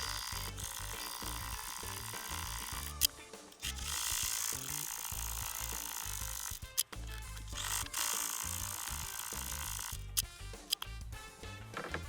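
Sewing machine stitching lines through a quilted truck hat, a steady whirring mechanical run broken by brief pauses and clicks, close and continuous with no voices.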